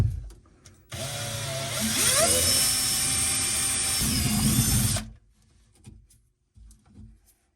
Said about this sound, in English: I'm gonna mark a hole around the side here with our 1/4" drill bit